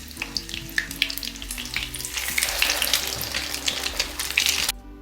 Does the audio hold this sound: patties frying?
yes